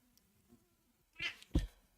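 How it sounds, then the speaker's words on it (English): A cat gives a short, fairly close meow in a quiet room, followed moments later by a louder second sound, with nothing else around it. "there's a cat."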